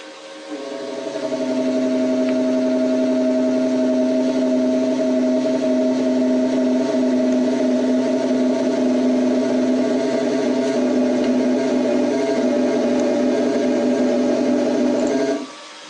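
A simulated car engine in a Unity3D driving game hums at a steady pitch for about fifteen seconds, fading in at the start and cutting off at the end, with no voices over it.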